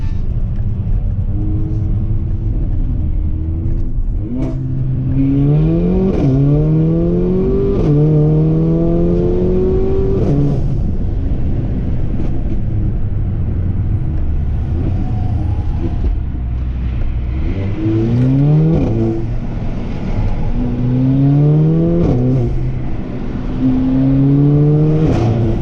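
Mercedes GLA 45 AMG with a stage 2 tune and blow-off valve, its engine revving up hard through several gear changes in two bursts, loud and close with a steady rumble between pulls.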